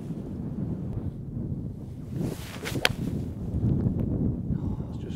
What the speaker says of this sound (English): The wind's now up